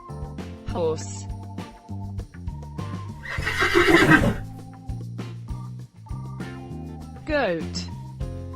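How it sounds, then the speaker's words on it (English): A horse neighs loudly in a farm animal sound sequence, a long rising-and-falling whinny peaking midway, with shorter bright calls near the start and end over a steady musical backing. "Horse."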